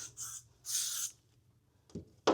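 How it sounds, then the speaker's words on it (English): Got To Be wax spray is sprayed onto a lace wig in two short hissing bursts, close by, followed by a couple of soft handling taps. "spray the wax spray on here. This is a Got To Be wax spray."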